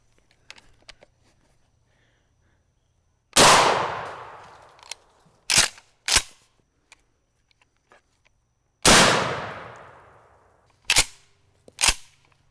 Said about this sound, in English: Shooting guns just seemed appropriate to do on a Memorial Day video.